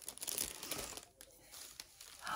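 Crinkling of paper or plastic wrapping around a handmade gift box, dense rustling at first that thins into scattered crackles, close and fairly quiet.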